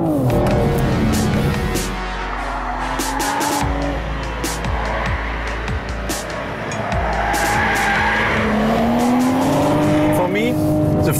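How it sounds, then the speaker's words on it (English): A 2021 BMW 4 Series Coupe takes corners hard, its engine revving and its tires squealing repeatedly while someone talks over the driving noise. "you steer the car through the corners, not only with the steering wheel, but also with the throttle"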